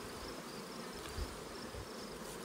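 Honey bees buzzing at a hive in August, a dense, continuous drone holding at an even level, close by and without talk.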